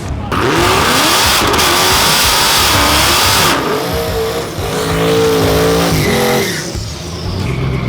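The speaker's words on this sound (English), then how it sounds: "as he does an absolutely tiny burnout" A loud LS1-swapped Mazda RX-8 drag car roars and revs continuously through a short burnout, with shifting pitch and tire-squeal texture, close and overwhelming throughout.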